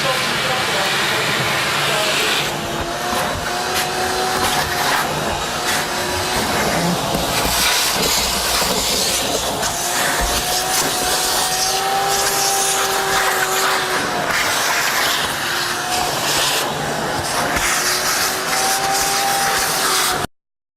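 A carpet extractor cleaning machine runs steadily and loudly throughout, a continuous whirring motor and suction hiss with a shifting whine, briefly cutting off at the very end.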